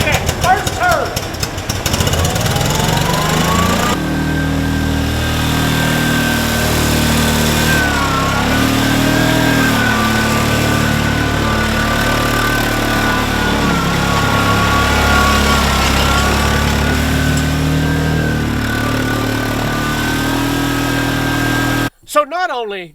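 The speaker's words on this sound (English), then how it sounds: "They ain't got nothing on this 50-year-old Cushman Trackster. Ignition, engage." A 50-year-old Cushman Trackster tracked vehicle cranks and catches on the first turn, then settles into a loud, steady, rattling engine idle with slight rises in pitch, before cutting off abruptly at the end.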